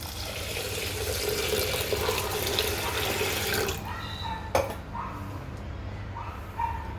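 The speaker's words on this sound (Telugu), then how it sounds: "ఇందులో వాటర్ వేసుకోవాలి" Water gushes from a tap into a pot of soaked toor dal and rice, a rushing pour that stops near the middle, followed by a few splashes and faint dog yips.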